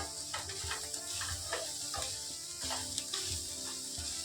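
Egg noodles with added salt are stirred in a pan, a quiet ongoing sizzle broken by a series of soft scraping strokes at an irregular rhythm.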